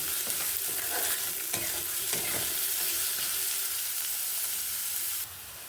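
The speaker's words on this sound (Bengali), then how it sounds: "পেঁয়াজটা একটু লালচে করে ভেজে নেব" Chopped onions frying in oil until reddish brown for a mutton vindaloo, giving a steady, close sizzle with occasional stirring scrapes that cuts off abruptly near the end.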